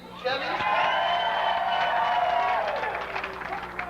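Crowd at an award event cheering and whooping in a sustained loud swell with some clapping, fading out after a few seconds.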